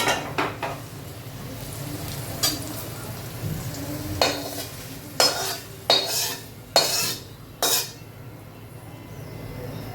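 A spoon scrapes and stirs tempering through thin dry flattened rice in a pan for chivda, with sharp clinks and scrapes coming in bursts over a soft background hiss.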